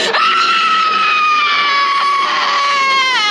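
An actress lets out a long, piercing, sustained scream on set while filming a scene for The Texas Chainsaw Massacre: The Beginning, loud and close, wavering in pitch and holding for several seconds without a break.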